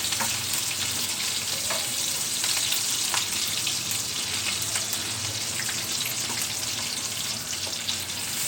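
Sliced onions, green chillies and seasoning seeds fry in hot oil for an Andhra-style okra dish, giving a close, steady, crackling sizzle with faint stirring and no talking.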